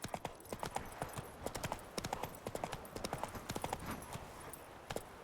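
Roach the horse galloping in The Witcher 3: Wild Hunt, a fast, steady run of hoofbeats clip-clopping at mid distance over a constant background bed.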